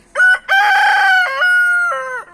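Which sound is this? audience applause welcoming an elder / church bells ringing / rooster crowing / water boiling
rooster crowing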